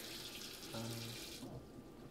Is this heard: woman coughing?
no